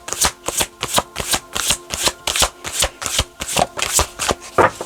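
Tarot cards are riffled and shuffled in quick, evenly spaced bursts, about a dozen crisp papery flutters close to the listener, with no talking.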